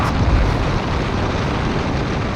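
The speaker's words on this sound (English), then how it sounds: "Oh, feel the power of the Suzuki Swift." A Suzuki Swift Sport accelerating hard in a drag race against a Volkswagen Up GTI, a loud, steady, full-throated engine roar with no pauses or gear breaks, close and continuous throughout.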